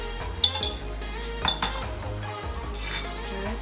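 A spoon stirs a Kerala-style vegetable stew with pumpkin, potatoes and coconut milk in a pot, giving a few sharp metallic clinks against the rim over a low, steady background.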